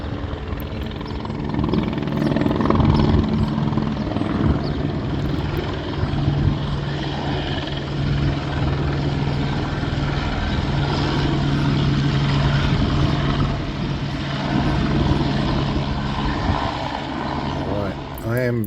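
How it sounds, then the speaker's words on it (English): A helicopter returns to a work site and comes in to land after a trip to Bunnings, its rotor thudding loud and steady nearby, with engine whine rising and shifting toward the end. "This guy did a trip to Bunnings in his chopper."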